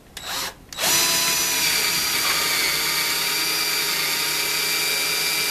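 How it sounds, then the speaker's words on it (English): A power drill bores holes into pallet wood while a wine rack is built, giving a brief start-up burst and then a steady, loud, close whine that runs on alone. "Now I'm just gonna be joining it by drilling two holes."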